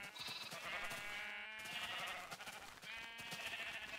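Sheep in the video game Minecraft bleat in two or three drawn-out, wavering calls, fairly close and clear, with short gaps between them and some faint game sounds underneath.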